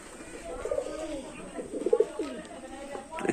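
Low, rolling coos from a Teddy pigeon and its young in a breeder's loft, several throaty phrases close by, with a voice speaking briefly.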